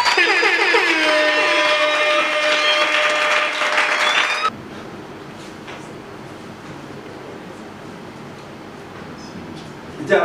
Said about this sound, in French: Maman, sous vos applaudissements